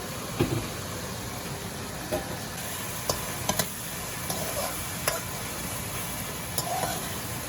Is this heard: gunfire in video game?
no